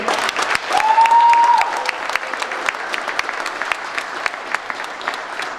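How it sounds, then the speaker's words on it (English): An audience at a beauty pageant claps steadily in a sustained round of applause, with a brief whistle near the start before the clapping thins out. "Let's hear it for Cinnamon Sin."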